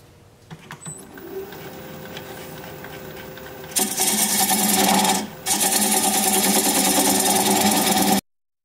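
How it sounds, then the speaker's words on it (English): A 3/8 inch standard grind bowl gouge cuts a tenon on a spinning bowl on a wood lathe. A low motor hum gives way to a loud, steady scraping hiss as the tool engages, with one brief break before cutting continues. "I'm going to take a 3/8 inch standard grind bowl gouge and begin to remove in that tenon."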